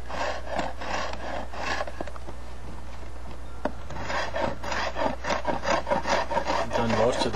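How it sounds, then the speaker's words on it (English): A stone scraper shaves belly wood from a stone age bow stave in repeated rasping strokes, each a short scratchy rub, close and fairly loud, in an uneven rhythm over a low steady hum. "That scraper cleaned up the mess that the antler left really fast"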